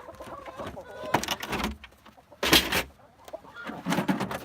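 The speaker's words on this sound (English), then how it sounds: "So I'll open up the chickens for Aquaman." Chickens cluck and chatter in scattered bursts, close by, mixed with clattering and rustling noises in between.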